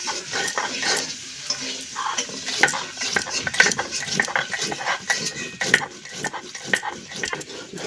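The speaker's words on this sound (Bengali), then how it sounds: "ঝালটা আমি সুন্দর করে বেটে দিচ্ছি।" Dried red chillies ground into paste on a grinding stone in a village kitchen: busy, irregular rubbing and scraping with knocks and clicks, close and continuous.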